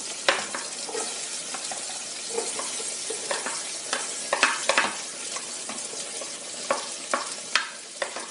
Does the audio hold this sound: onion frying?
yes